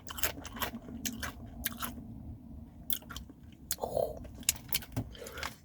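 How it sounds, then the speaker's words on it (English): Sherry vinegar and salt crisps being eaten inside a van, close crunchy bites followed by repeated wet chewing in irregular bursts, with brief pauses and faint vocal sounds between mouthfuls. "Let's try one of these crisps."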